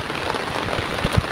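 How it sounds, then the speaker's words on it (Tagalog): Heavy rain pours down outdoors in a garden where sweet potato shoots are being picked, a steady close hiss of drops striking surfaces with a couple of louder splatters. "kaya lakas ang ulan"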